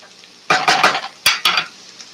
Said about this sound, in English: just give this pasta a stir